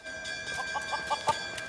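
A hen clucks in a quick series of short, rising calls at close range, over a faint steady background tone.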